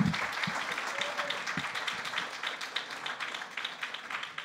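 Applause from the audience at a National Gaucher Foundation patient meeting after a medical presentation, a moderately loud wash of clapping that stays steady and fades slightly, with a few brief sounds near the start.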